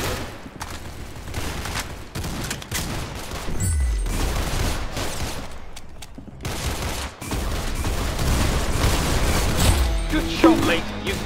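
Gunfire in the Roblox game Arsenal, rapid crackling shots and booms layered densely over game effects and music, with people talking excitedly over the action.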